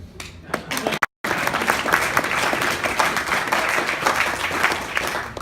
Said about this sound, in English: Clap your hands if you're from a family